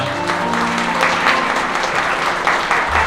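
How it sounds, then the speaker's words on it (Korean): Wedding guests in a hall give loud, sustained applause, a dense steady clatter of many hands heard up close for a few seconds with no talk over it. "신랑 신부 우리 사랑하는 아버지 어머니께 인사 큰 박수 부탁드리겠습니다."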